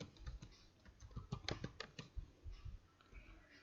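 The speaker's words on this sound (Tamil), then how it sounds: "ஸோ பர்ச்சேஸ் டைப் பண்ணுறேன்." Typing on a computer keyboard while entering a ledger name in Tally Prime accounting software: a quick, uneven run of close, light key clicks lasting a few seconds, with no speech.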